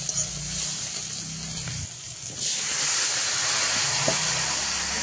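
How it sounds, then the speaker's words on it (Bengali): Crabs frying in a pan as taro flowers are tossed in; a low steady sizzle swells into a louder, broader hiss partway through and keeps going to the end, with no talking. "আর এবার দিয়ে দেবো কচুর ফুল।"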